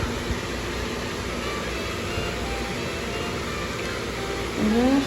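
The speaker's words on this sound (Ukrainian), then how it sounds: "Це працює кондиціонер. Голосно, але надійно" A constant broadband whoosh of an apartment air conditioner in Los Angeles runs steadily, with a brief rising tone at the end.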